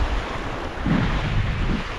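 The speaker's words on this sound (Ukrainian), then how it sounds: "Хвиля дивіться яка." Strong wind roars over choppy waves on the Dniester river near Stara Ushytsia, a constant rushing wash with heavy wind buffeting close to the microphone and no voices.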